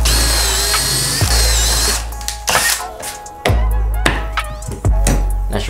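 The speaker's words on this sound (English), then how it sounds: "Looks like I'm gonna have to drill these two rivets out." A power drill bores out rivets on steel treadplate body armor with leather straps, whining up in several short, loud bursts, each ending in a grinding catch and release, with handling noise between.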